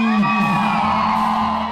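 A large crowd at a night festival in a shopping-centre car park shouts and whoops together in one loud, sustained rising cheer.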